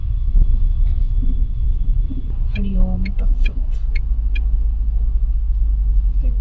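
Heavy low road rumble fills the cabin of a Tata Nexon stuck in a truck traffic jam on the Delhi–Kolkata highway near Gaya. A brief tonal horn-like sound and a voice are heard over the steady drone.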